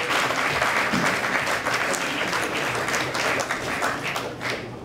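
Group applause at an Hydro-Québec Civil Action challenge event, a steady, fairly loud round of clapping from a gathered crowd that eases slightly toward the end.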